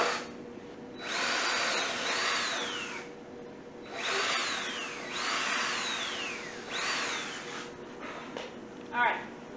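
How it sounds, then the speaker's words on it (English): A power drill whines up and down in several bursts as it bores into wood, with a person talking faintly in the background. "I'm gonna drill a hole in the center where that nail was."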